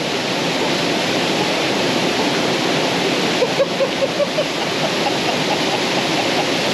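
Steady broadband rush of falling water from a waterfall, dense and continuous throughout, with a few faint brief tones near the middle and no talking.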